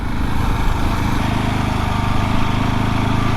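KTM 690 Enduro R single-cylinder motorcycle engine under way on a rough country lane, a loud, close, steady chugging drone with slight shifts in pitch as the rider changes throttle.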